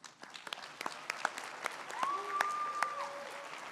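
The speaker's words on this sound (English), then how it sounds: "Let's give a big, well-deserved round of applause for our sponsors." An audience at an evening awards event claps for the sponsors, scattered close claps swelling into steady applause while a tone sounds briefly in the background.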